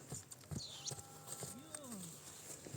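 Belgian draft horses running, hooves clip-clopping at a quiet, distant level, with a faint whinny and people talking in the background.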